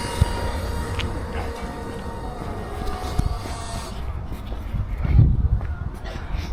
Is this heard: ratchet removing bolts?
no